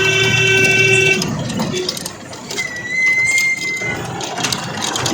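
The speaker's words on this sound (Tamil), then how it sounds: "ஹாரன் சவுண்டு கேட்குது" A jeep's horn blares in a steady, buzzy tone at the start, then a thinner high honk sounds later over engine rumble and road noise on a hilly mountain road near Kodachadri, India.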